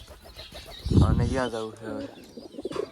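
Pigeons on a rooftop coo softly in the background while a person talks over them, the bird sounds faint and partly masked by the voice.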